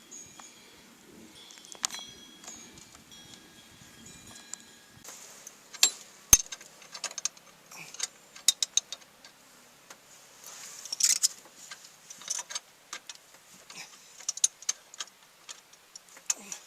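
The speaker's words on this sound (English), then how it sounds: "Need to get a wrench for that now." Wrench working on the suspension bolts of a Ski-Doo Expedition snowmobile, with sparse metallic clicks and light clanks at irregular intervals, close and fairly quiet.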